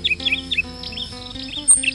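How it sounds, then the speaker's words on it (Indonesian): An orange-headed thrush sings in a garden at dawn, quick bright whistled phrases and chirps repeating close by over a low steady background hum. "anis merah di sekeliling kebun bisa kita dengarkan"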